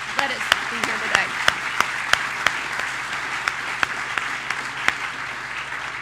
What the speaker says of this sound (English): let's give a round of applause for those that let us be here today